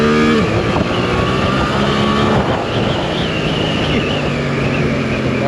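A Suzuki GSX-8R sports motorcycle engine pulls strongly under acceleration, a loud, steady, close-up drone with wind rush that holds throughout with only slight changes in pitch.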